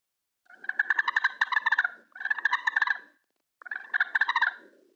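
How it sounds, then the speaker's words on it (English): A striker is dragged across a slate pot turkey call to make a purr: three rolling, fluttery bursts of rapid clucking trills separated by short gaps, close and clear with no talking. "the purr is just kind of dragging the striker down the pot,"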